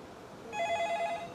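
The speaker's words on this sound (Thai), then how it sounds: "อ่ะโทรศัพท์มาแล้ว" A telephone rings with an incoming call, a short warbling tone heard once over a steady background hum.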